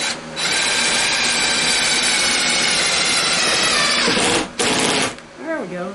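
A cordless drill runs in a long loud continuous whine, cuts out briefly, spins again for a moment and stops, followed by a short voice-like sound at the end.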